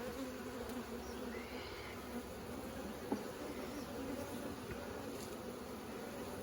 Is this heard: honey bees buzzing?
yes